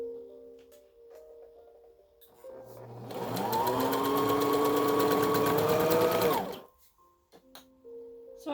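Sewing machine stitches down the side of a folded bandana fabric strip, a dense whirring motor run of about three seconds between quieter handling noises, close and steady with no talking.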